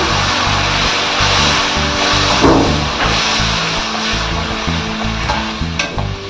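Coconut milk poured into onions frying in a pan, producing a loud, continuous close sizzle and bubbling with a brief stirring scrape partway through.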